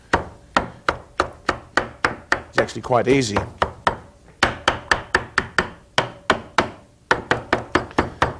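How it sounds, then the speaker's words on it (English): A sharp knife chops spinach leaves on a cutting board in a steady run of crisp, evenly spaced taps, pausing briefly midway while a voice talks over the work. "chopping your spinach"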